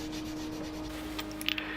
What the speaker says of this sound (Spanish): lo mojas en agua y empiezas a rascar o a lijar las partes un poquito más dañadas